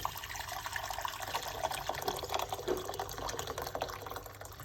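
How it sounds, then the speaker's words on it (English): Hot water pours into a kettle with a steady gurgling splash, moderately close, continuing for several seconds. "pour some hot water."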